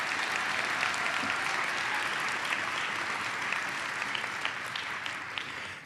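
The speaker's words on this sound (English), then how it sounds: "let's give Micah a round of applause for his great work" An audience at a graduation hooding ceremony gives sustained applause. The dense, even clapping stays loud throughout and tapers slightly toward the end.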